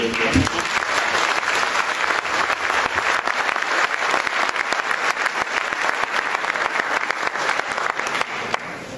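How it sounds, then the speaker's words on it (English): Audience applause at an award ceremony, a dense, steady clapping from a large crowd that continues throughout at a loud, even level. "I would just ask for a very sound round of applause to all of them."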